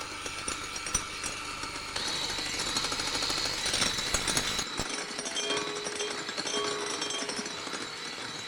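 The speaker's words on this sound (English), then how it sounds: "I'm going to continue whisking" Electric mixer whisking egg whites as caster sugar is added a little at a time for meringue, a close, continuous high whirring buzz that shifts in pitch partway through and runs steady to the end.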